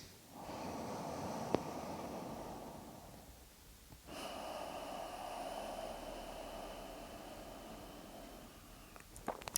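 Two long, steady ujjayi breaths, hissing with a soft rushing, ocean-like throat sound, each lasting several seconds, close and alone with a brief pause between.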